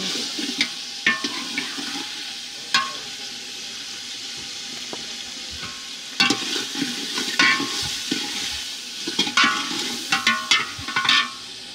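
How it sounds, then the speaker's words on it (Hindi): Tomatoes tipped into biryani masala frying in a pot, a wet bubbling hiss broken by sharp clatters and scraping stirs, quieter at first and busier later, no speech. "अब इसमें डालेंगे टमाटर"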